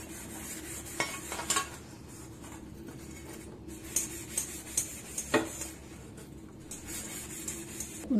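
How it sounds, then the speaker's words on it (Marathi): A new iron kadai is scrubbed clean during seasoning, giving steady close scratchy rubbing with a few sharper metallic scrapes and knocks, and no talking. "कढईला असं घासून घेते परत।"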